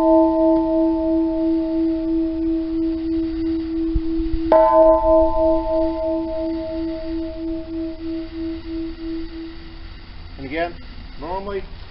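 A large bell made from a heavy, big compressed gas cylinder is struck twice. Each stroke rings with a sustained, pure, resonant tone. The first ring fades slowly, and a second strike about halfway through renews it. Faint voices chirp near the end.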